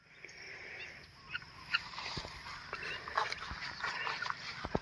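Chickens cluck and squawk in scattered bursts, a few birds fairly close outdoors beside a house, with faint background noise.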